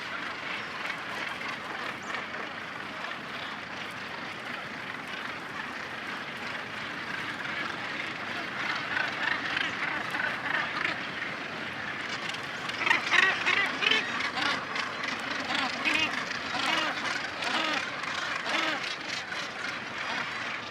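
A large gannet colony calls from sea cliffs in Brittany, a dense, continuous din of harsh, overlapping cries that swells slightly partway through, with wind or surf in the background.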